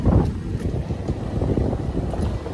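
Wind buffets the microphone on a golf course, a loud, low, continuous rumble that rises and falls without any other clear sound.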